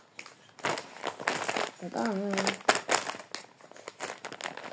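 Plastic wrapper crinkles and crackles in short bursts as a Labubu toy package is opened up close, mixed in with talking.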